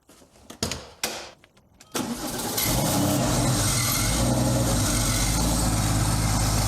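A Porsche engine cranks with a few short whirring starter bursts, then catches at about two seconds and settles into a loud, steady running roar, close by, with no talking.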